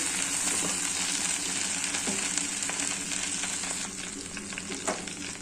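Cooking oil bubbles and froths in a pan while tempering, a loud, steady, dense sizzle that fills the whole stretch with a few sharper crackles and no talk.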